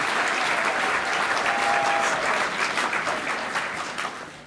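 An audience at the American Veterans Center Honors 2013 awards ceremony claps for an event sponsor, a full, steady round of applause that holds strong, then tapers off over the last second.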